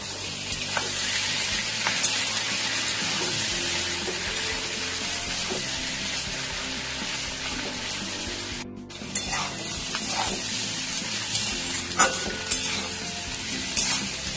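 Steady loud sizzling of hilsa and katla fish fat frying in a pan with a little chili powder, with scraping stirring strokes and brief clinks throughout, no voices.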